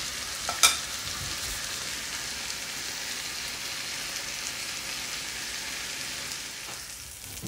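Chicken frying and being stirred in a pan, cooking with mushrooms for a creamy dish: steady close sizzle with a brief sharper scrape near the start, no talking.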